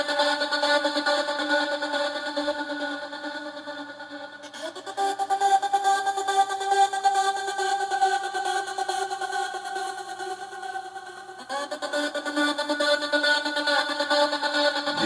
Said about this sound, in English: some gated vocal, which sounds like this.